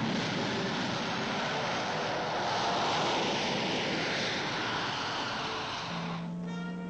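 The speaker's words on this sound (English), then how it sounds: "the aircraft of the Strategic Air Command and the Tactical Air Command must be ready" A steady, broad engine roar from military aircraft of the Strategic and Tactical Air Command, constant and fairly distant, with a brief tonal hum near the end.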